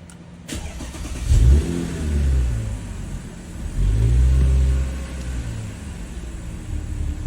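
A car engine cranks and catches, then revs up twice in swelling bursts before settling into a steady idle.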